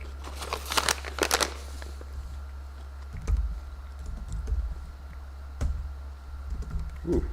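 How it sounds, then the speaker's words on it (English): Keys clatter on a computer keyboard in short bursts, one burst early and another later, with scattered clicks between, fairly close and alone over a steady low hum. "Ooh, keyboard works now."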